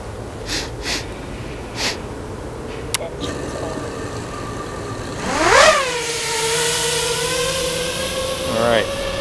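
FPV drone motors spinning up at about half throttle: a rising whine sweeps up and settles into a steady multi-tone hum, with a brief second swell near the end, after some breathy sounds and light clicks.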